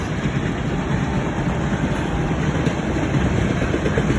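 A freight train passes through Cambridge, Nebraska, beside an RV park and campground, making a steady, loud, low rumble that holds without a break.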